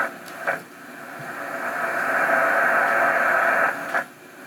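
A steady hissing tone with static from a CW Pixie kit radio receiver, holding constant for several seconds with faint clicks at the start and end.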